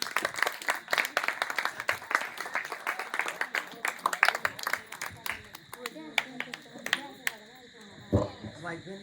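Clapping from a church congregation after a short skit, a burst of scattered claps that thins out into sparser hits while voices talk over it.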